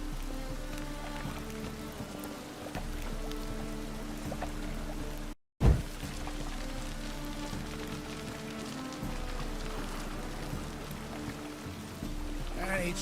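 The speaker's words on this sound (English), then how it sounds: "And it's raining again." Steady rain hisses in The Witcher 3, a soft continuous patter under a low musical drone, briefly cutting out midway before resuming.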